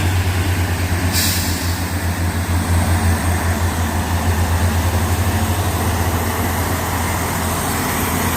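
Heavy trucks grind along a road, including a large tanker trailer, with a steady loud low engine drone throughout and a brief sharp hiss of an air brake early on.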